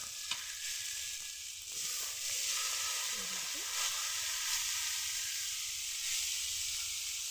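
Boiled cabbage, carrot and potato go into frying masala in a pan, producing a soft, steady sizzle and hiss with a few faint clatters, fairly quiet and without voices.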